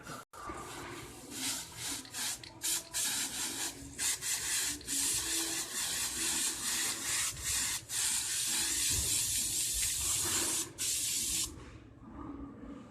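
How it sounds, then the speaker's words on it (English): Long bursts of aerosol cobweb spray hissing from a can, repeated with short pauses, then one extended continuous spray before it stops. "Shake it up a little bit, and then I'm going to spray it."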